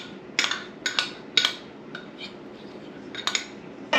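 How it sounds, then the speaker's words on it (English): Melted chocolate mixture scraped from a container into a metal mixing bowl for edible cookie dough, with a string of light clinks and scrapes against the bowl, close and moderately loud, without talk. "you're gonna put the chocolate mixture, the melted chocolate mixture, in your mixing bowl"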